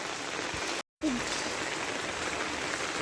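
Heavy rain pours over flooded paddy fields, making a constant broadband hiss that cuts out for a moment and then resumes just as steadily.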